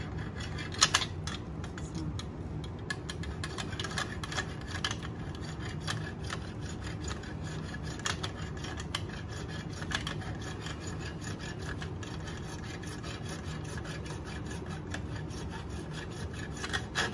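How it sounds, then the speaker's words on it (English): A hacksaw saws back and forth through a block of carving wax, trimming off unwanted material; a steady, continuous rasping stroke runs throughout with no voices. "I'm going to still use the hacksaw, and I'm going to start like a lot of lapidary people do"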